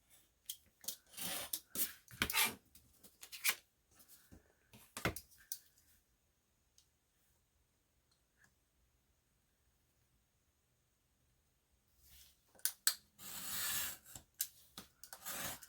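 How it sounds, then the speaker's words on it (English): Brisk snipping of scissors through paper in quick bursts, a long quiet pause, then another run of close, dry cuts. "and then cut it with scissors"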